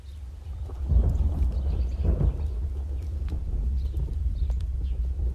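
Rain and thunder: a steady low rumble that swells around the first and second seconds, with scattered drip-like ticks throughout and no voices.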